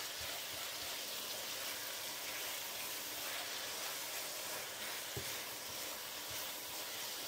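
Tomatoes sizzling in a hot pan for prawn bucatini, a steady, even hiss of frying with faint pops and stirring clicks scattered throughout, no voices.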